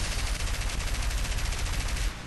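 Sustained, rapid machine-gun fire from a WWII-era aircraft in the combat game War Thunder, loud and continuous, forming a dense mechanical rattle that cuts off abruptly near the end.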